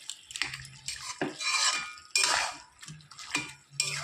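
Vegetarian spinach vegetable curry being stirred and sautéed in its own released water in a pan, with repeated scraping and clinking of a spatula against the metal in bursts, close and fairly soft, no talking.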